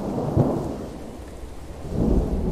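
Thunder from lightning rolls through a stormy scene in the horror video game Boogeyman, a deep rumble swelling at the start and again near the end over a bed of steady rain, with no voices.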